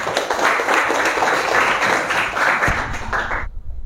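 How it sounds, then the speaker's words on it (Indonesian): Applause in a classroom teaching session: a dense, continuous patter of many hands clapping for a few seconds that stops abruptly, with the room going quiet afterward. "tepuk tangan untuk Risti."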